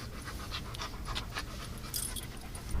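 A large, heavy dog weighing about 138 pounds pants steadily, with quick breathy huffs repeating close by over a low background hum and no talking.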